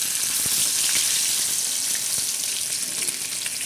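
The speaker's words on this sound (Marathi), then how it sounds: "आता ही मच्छी आपण तळणार आहोत." Fish pieces fry in oil on a hot iron griddle with a loud, even, close-up sizzle, broken by a few sharp pops and spits that stand out against the constant hiss.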